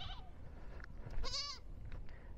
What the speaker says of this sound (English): They are domestic goats from homes where they go to the mountains and they hide in the caves.